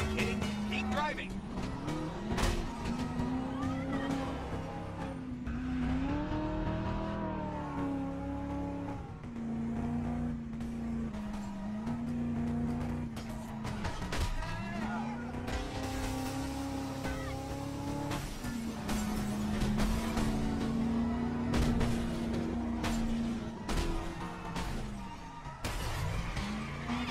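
A car racing through a chase in Driver San Francisco, engine revving and shifting with pitch rising and falling, occasional tire squeal and passing traffic, with voices talking over the driving.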